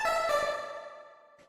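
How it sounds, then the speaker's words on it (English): A lo-fi house lead synth built in Native Instruments Massive from a pulse-width-modulated virtual analog oscillator, sounding one bright, buzzy note that decays over about a second and a half, heard alone. "So the last synth here is this lead"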